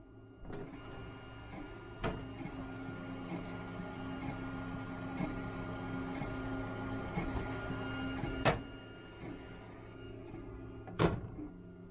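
A 3D printer runs inside a closed vertical enclosure cabinet, giving a muffled, steady mechanical whir with a low hum and occasional sharp clicks and knocks as the machine moves.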